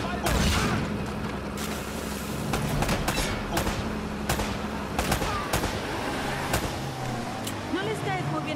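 Rapid bursts of gunfire in Uncharted: Drake's Fortune crackle over a dense, constant noisy backdrop, with sharp repeated shots throughout.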